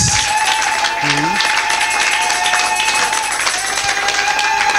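A church congregation applauds the pastor in a sustained, even wash of clapping that fills the room, with a few voices rising briefly over the applause.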